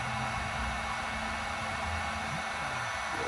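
A heat gun blows steadily to melt solder and shrink heat-shrink tubing while wiring a digital fuel sender, a constant airy hiss and hum at low level with a faint underlying drone.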